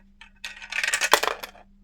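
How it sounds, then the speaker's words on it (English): Dice tumbling down a small snap-together plastic staircase dice tower: a quick, close run of light clattering clicks and rattles lasting about a second, then settling. "you just drop the dice down the hole, and it goes around the staircase, and it falls down here"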